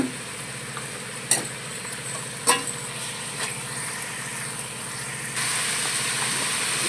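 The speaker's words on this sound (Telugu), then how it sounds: "చారు రసం బాగా మరుగుతుందండి." Mutton curry broth boiling in a pot gives a steady hissing, bubbling simmer close by, broken by a few sharp clinks and taps.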